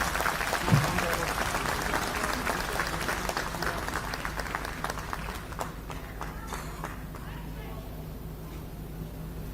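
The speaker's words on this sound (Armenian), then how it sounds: "ես խնդրում եմ իրեն էլ բուռն ծափերով" Enthusiastic crowd applause at a church gathering in Armenia, dense steady clapping from a large audience that carries on for several seconds before thinning slightly, with faint voices mixed underneath.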